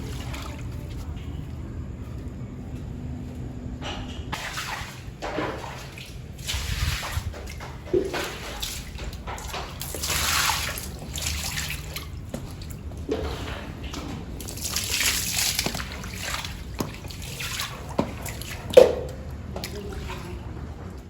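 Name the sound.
water splashing while washing out cooler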